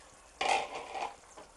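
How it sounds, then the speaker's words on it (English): A spoon stirs grated Gruyère cheese into a thick moussaka sauce that has just come off the heat. It makes one short, soft, wet scraping swirl, close by and with no talking. "take it off the heat, stir in 4 ounces of Gruyere cheese, grated."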